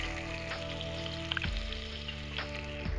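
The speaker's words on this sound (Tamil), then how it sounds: "இது கூட வந்து நான் வெட்டி வச்சுக்கிற வெங்காயம் சேர்க்குறேன்." Chopped onions frying in oil in a pressure cooker, a close hissing sizzle with a couple of sharp pops and faint scraping, steady and unbroken with no talk.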